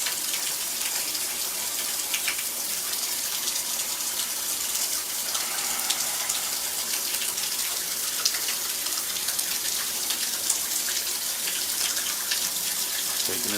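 Shower water pouring steadily into a bathtub and down its newly repaired drain, a constant hissing splash with no breaks, fairly quiet and close.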